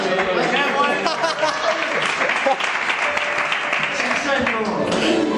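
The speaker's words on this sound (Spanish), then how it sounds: "¡Un aplauso!" A congregation applauds during a church sermon, sustained clapping mixed with chatter and voices from the room, steady and fairly loud for several seconds.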